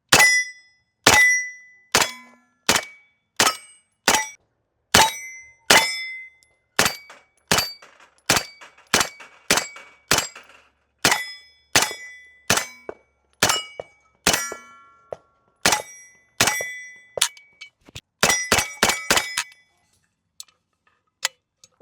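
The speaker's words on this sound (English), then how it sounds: "So we're gonna put some more shots out there, see how everything's feeling, and go from there." A 9mm Kalashnikov KP-9 fires a long string of sharp, loud shots at a steady spaced pace, each report followed by a ringing metallic clang from steel targets, ending with a quicker burst of rapid shots.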